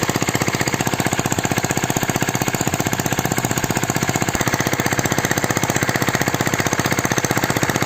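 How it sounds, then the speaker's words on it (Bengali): An oil-fuelled irrigation pump engine runs in a farm field, a loud, close, rapid and steady chugging beat that holds the same even rhythm throughout with no voices. "তেলের মেশিন এটা।"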